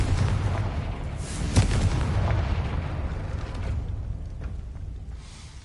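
Confringo blasting spell in the Hogwarts Legacy video game, a loud rumbling explosion with a sharp burst near the start and a long low roar that slowly fades.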